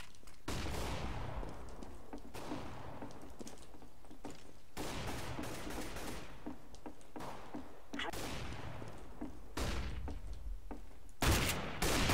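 Flashbang grenade deployed in Counter-Strike amid rapid gunfire, repeated sharp shots and bursts with decaying echoes, fairly close, with faint keyboard clicks in the background.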